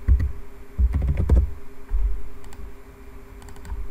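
Computer keyboard typing while an Excel formula is entered, a close cluster of quick clicking keystrokes followed by scattered single key taps, over a faint steady hum and without speech.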